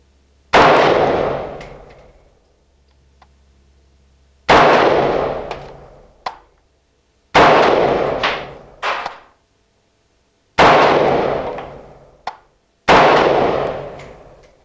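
A Century Arms C93 Sporter rifle fires Wolf 55 grain full metal jacket steel case ammo: five loud, sharp shots, each with a reverberant decaying tail, spaced a few seconds apart with no talk.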